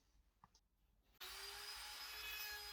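After a brief quiet moment, a power sander starts abruptly and runs loud and steady, a continuous whirring hiss against the rounded wooden top of a radiator cover.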